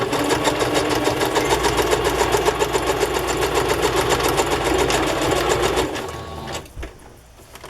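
A sewing machine zigzag-stitches along an unfinished fabric edge while making a Christmas journal, running steadily and loudly for about six seconds before stopping, with a few quieter handling sounds after.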